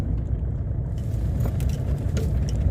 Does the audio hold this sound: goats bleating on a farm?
no